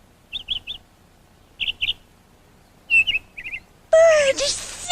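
A cartoon bird from a children's puppet show chirps in quick high triplets and pairs, then breaks into a bright whistled trill, with soft background music and no talk over the calls.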